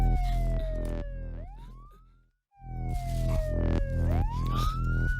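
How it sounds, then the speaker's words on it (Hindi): A loud, close ambulance siren wails in long rising and falling sweeps, cutting out briefly to near silence before starting up again. "एम्बुलेंस की आवाज है।"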